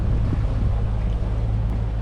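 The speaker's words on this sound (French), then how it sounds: "Ce matin on a eu marre, on a mis le moteur." A sailboat's engine drones steadily at sea on an ocean crossing, a loud low hum mixed with wind and water noise, with no voices.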